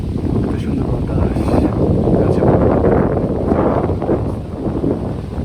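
Strong, steady wind roars and buffets the microphone while riding a motorbike through a village, a continuous low rumble that swells and eases slightly throughout.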